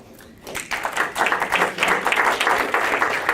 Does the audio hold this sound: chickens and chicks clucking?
no